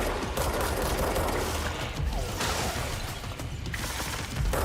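Dense video game gunfire in a rapid, continuous fusillade with mechanical rattling, loud and steady throughout with no talking.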